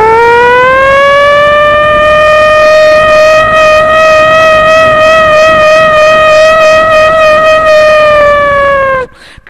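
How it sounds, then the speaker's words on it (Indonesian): A loud civil defense siren wails close by, holding a steady rising-then-level tone for about nine seconds before winding down and stopping sharply, sounding alone without voices. "jam 6 suara sirene telah berbunyi"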